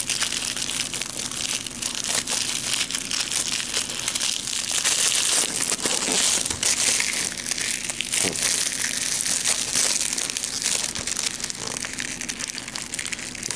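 Plastic wrap crinkles and crunches continuously as it is peeled off an anime DVD case, a loud, close, dense crackling that runs unbroken without talk.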